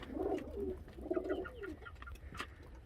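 Rampuri pigeons in a flock cooing, several soft, rolling low coos close by, one after another, with faint chirps and light rustling in between and no voices.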